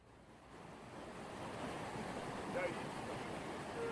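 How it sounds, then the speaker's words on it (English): Floodwater rushes through Boulder, Colorado in a broad, steady roar that swells slightly and then holds, fairly distant and low in level, with no talking. "what you're hearing here is a sound of water racing through Boulder, Colorado last night"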